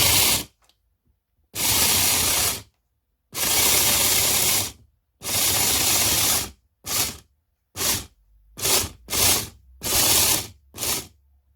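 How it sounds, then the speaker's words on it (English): Linear actuators drive a robot prototype in about a dozen separate bursts of loud, broadband mechanical whirring. The bursts vary from long runs to short jabs and are split by near-silent pauses. "so I decided to switch from servos to linear actuators. And so in the next slide will be a short video of me testing the prototype"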